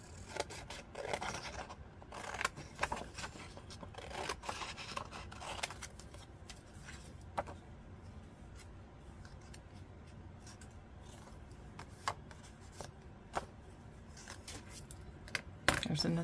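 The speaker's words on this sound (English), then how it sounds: "I'm gonna cut out a little sailor here." Scissors snip and scrape through paper to cut out a small sailor figure, giving a quiet, intermittent run of short cuts and rustles, with a louder snip near the end.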